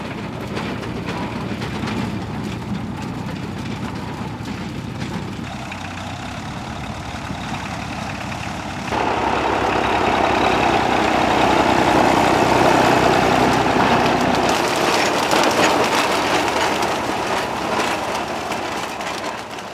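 A vintage tractor-drawn beet harvester with rotating agitators and a cleaning drum works a field, giving a loud continuous engine drone and mechanical rumble that swells and thickens midway, then eases slightly, with no voices.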